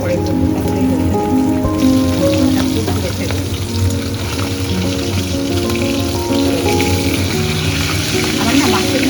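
Food sizzling and frying steadily in a pan on a gas stove, a continuous dense crackle and spatter heard close up, with faint background sounds.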